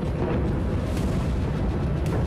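Blasts from a Russian attack on Kyiv, a short burst of dense, loud booming rumble with sharp cracks near the start and end, no speech.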